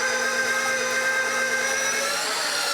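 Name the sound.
KitchenAid meat tenderizer attachment running on round steak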